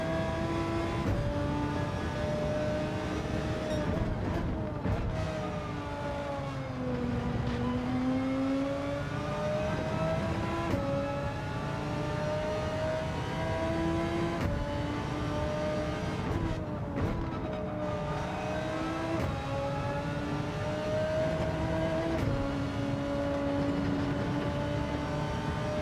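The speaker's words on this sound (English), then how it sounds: "Not so sure what I think of the engine note of this car, to be honest. I've only just started to hear it." A race car engine in a racing video game revs steadily throughout, its pitch rising and falling through repeated gear shifts at a constant loud level, with no talking.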